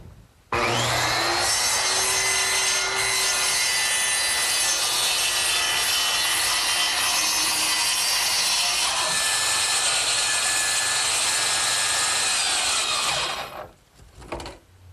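A saw cuts through plywood along the lower edge of a heavy chest's back, leaving material to strengthen the back leg: one loud, close, steady grinding cut lasting about thirteen seconds, then stopping abruptly, with no talking.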